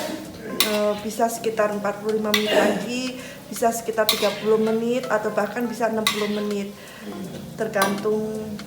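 Hollow chicken meatballs fry in hot oil in a wok while a utensil stirs and scrapes against the metal in repeated clinks, heard close under someone speaking throughout.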